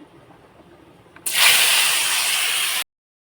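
Nigella seeds, dried chilies, pumpkin and green chilies drop into hot oil and burst into a loud, steady sizzle that starts suddenly after a quiet moment and hisses evenly until it cuts off.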